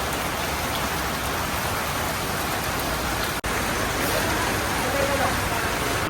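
Heavy rain falls in a constant, loud wash of drops hitting surfaces, steady and close except for one very brief dropout partway through.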